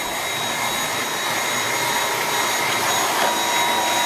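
Dyson cordless stick vacuum (V8 or V6 Absolute) running with its brush bar pressed against an edge, giving a steady, loud broadband whine with a high tonal hum throughout, no talking.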